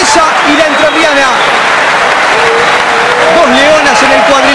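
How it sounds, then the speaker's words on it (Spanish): After a women's boxing bout between Bettina Garino and María Eugenia Quiroga, a crowd gives sustained applause, a dense steady roar of clapping with a commentator talking over it. "Y este aplauso merecido para ambas."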